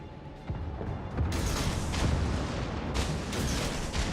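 Enemy warship gunfire in World of Warships: deep cannon booms land as several distinct heavy blasts with rumbling tails, one after another, loud and close with no talking.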